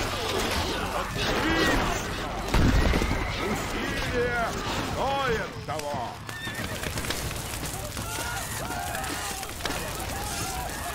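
Horses neighing in the medieval strategy game Stronghold Crusader, with loud whinnies rising and falling several times over dense battle noise, clip-clop and crashes, while someone talks over it.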